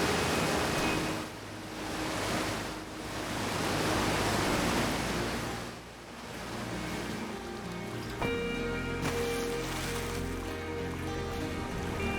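A waterfall in the game Outer Wilds roars as a steady broadband wash of rushing water, swelling and dipping in loudness, with faint tonal music underneath in the second half.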